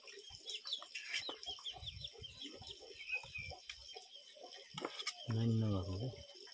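Chickens cluck and chicks peep softly and continuously at a distance, with a brief low voice near the end.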